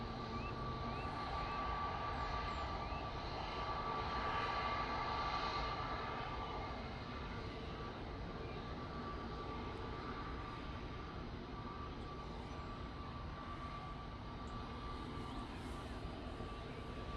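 An EasyJet passenger jet at Manchester Airport gives a steady, faint distant roar with a thin whine, swelling slightly then holding, heard from outdoors with no talking.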